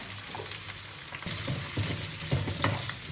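Cumin, garlic and onion sizzle steadily in a hot pan, with a few scrapes and stirs breaking through the continuous frying hiss, close and alone.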